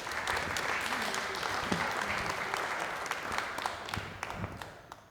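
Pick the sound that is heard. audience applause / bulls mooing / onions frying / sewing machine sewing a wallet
audience applause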